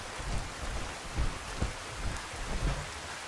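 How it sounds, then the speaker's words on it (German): Heavy rain pours in the video game Fallout 4, a dense, loud, continuous hiss with low rumbling thumps scattered through it and no voices. "der Regen ist so fucking laut, ey"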